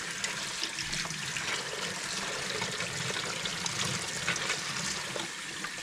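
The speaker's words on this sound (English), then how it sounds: "Through the vents, and that way you get a good rinse on it." Water runs steadily through the vents of an Arai motorcycle helmet during a rinse, a continuous close splashing and hissing flow with no pauses and no talk.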